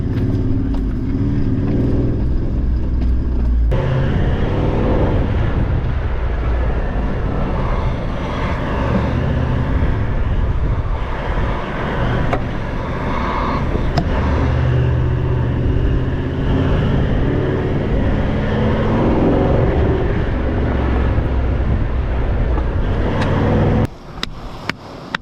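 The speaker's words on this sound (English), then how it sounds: "Right now we're driving over some seriously bloody soft sand." A vehicle drives over soft sand on a coastal camping trip, giving a loud, unbroken engine drone with rumbling, thumping tyre and chassis noise for about twenty-five seconds before cutting off abruptly near the end.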